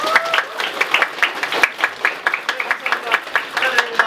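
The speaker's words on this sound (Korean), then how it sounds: "네, 축하 박수 부탁습니다" Congratulatory applause at a plaque unveiling for an IBS research center on the KAIST campus; a roomful of people claps in quick, sharp, fairly close bursts, with some talk mixed in.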